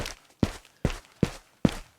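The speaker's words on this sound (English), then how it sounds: "We have our footsteps here, but we have only concrete." Footsteps on a concrete floor in an Unreal Engine 4 character setup, five sharp, evenly spaced heel strikes about every 0.4 seconds, each a crisp thud with a short tail, clear and close with no talk.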